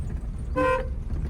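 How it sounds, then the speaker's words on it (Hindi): A single car horn honk, loud and close, sounding for about a quarter second over low engine rumble. "हॉर्न दीजिए इनको"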